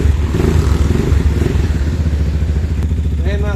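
A Rusi KRY 200 motorcycle fitted with a racing ignition coil and triple-core high-tension wire, push-started and then running: a loud, close, steady single-cylinder engine chug with some mechanical clatter.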